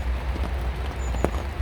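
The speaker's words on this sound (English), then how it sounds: "The rain's come, it's just dying down a little bit." Rain falling at a carp fishing club lake in Cheshire, a steady patter of drops with low rumbling wind noise and one sharper tap, no talking.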